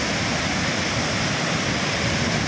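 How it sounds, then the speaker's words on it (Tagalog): Strong rush of water pouring down from above at Bolinao Falls, a loud, steady broadband roar filling the whole stretch with no breaks and no voices. "ang lakas ng bugso ng tubig galing po sa taas"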